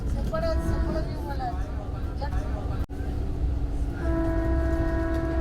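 A steady train rumble and clatter with rolling wheel noise as a Vande Bharat train crosses a high rail bridge to Srinagar, Kashmir, joined by sustained tonal hums, continuous throughout at moderate loudness.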